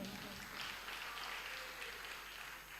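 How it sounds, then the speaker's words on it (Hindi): Faint, steady clapping from an audience at a religious katha gathering, a soft, continuous patter of many hands heard at a distance and partly mixed with voices. "ऐसे ताली बजाओगे तो नहीं होने वाला, थोड़ा जोरदार बजाओ भाई।"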